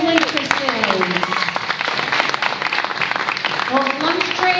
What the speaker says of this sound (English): let's have a round of applause for my hot chocolate dancers, waiters and waitresses